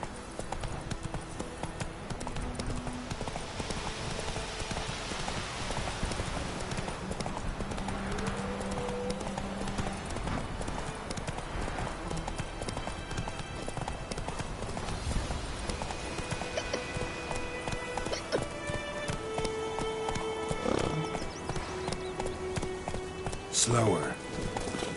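Horse Roach galloping in The Witcher 3, continuous rhythmic hoofbeats under game music and spoken dialogue, with a brief sharp sound near the end.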